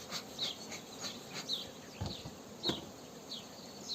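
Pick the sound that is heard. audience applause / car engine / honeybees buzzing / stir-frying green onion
honeybees buzzing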